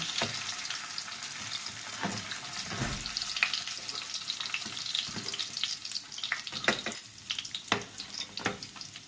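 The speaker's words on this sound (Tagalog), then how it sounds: "Prito na natin ang ating tokwa." Steady crackling sizzle of tofu frying in hot oil, with occasional stirring clinks and scrapes, close and continuous with no talking.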